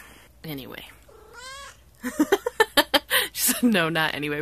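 A pet cat meows while getting belly rubs, giving a drawn-out mew early on and then a quick run of short chirping meows close to the microphone, mixed with someone talking.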